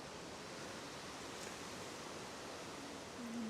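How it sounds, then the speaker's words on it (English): Strong wind roars steadily across Mount Gunjin's 400-metre summit on the Munda Biddi trail, a continuous broadband rush that stays loud and unbroken throughout. "Check the wind out. Blowing pretty strong up here."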